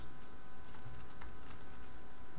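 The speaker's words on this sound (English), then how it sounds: "all I'm going to do is type" Continuous clicking of keys on a computer keyboard in a quiet indoor space, a steady run of light taps with no voices.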